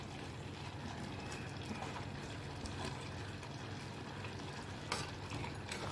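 Potato masala with gram flour is stirred in a pan while it sizzles steadily at close range. A constant frying hiss runs underneath, with no voices.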